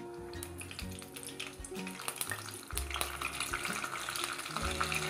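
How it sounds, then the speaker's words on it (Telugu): Cumin seeds and curry leaves crackle and sizzle in hot oil in a pan for a prawn fry, a continuous close spitting hiss that grows louder halfway through, with occasional clinks of a spoon. "ఆయిల్ వేడయ్యాక కొద్దిగా జీలకర్ర వేసుకోవాలి, కొద్దిగా కరివేపాకు"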